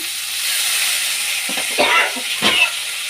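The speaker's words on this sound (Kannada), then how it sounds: "ಫ್ರೈ ಮಾಡ್ಕೊಳ್ಳೋಣ" Chana dal fries in a pan for a pea paddu recipe, giving a steady, close sizzle and hiss with a few brief stirring scrapes.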